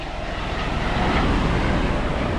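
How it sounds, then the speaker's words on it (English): A helicopter passing over a tropical island in the Seychelles produces a steady, loud, broadband roar that stays unbroken throughout, with wind buffeting mixed in. "I've just seen a second helicopter."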